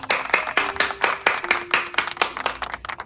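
A group of kids claps together in a quick, steady rhythm of crisp, close hand claps that continue without pause, with a faint sustained tone underneath.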